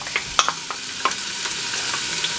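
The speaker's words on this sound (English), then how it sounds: "So I'm going to go ahead and throw in my onions. And my chopped garlic." Onions and chopped garlic hit heated olive oil in a soup pot, giving a steady close sizzle with scattered crackles and pops throughout, no voices.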